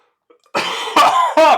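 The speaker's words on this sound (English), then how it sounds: "Coughing in your ear." Three loud, harsh coughs in quick succession, very close to the microphone.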